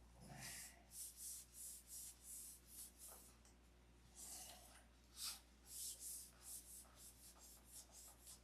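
Finish sanding of a control line model airplane by hand, a soft rhythmic rubbing of strokes about twice a second, close and quiet, with brief pauses between passes and no talk.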